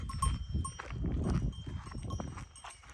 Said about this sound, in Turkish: Bu tongurdak çok iyi oluyor sesi.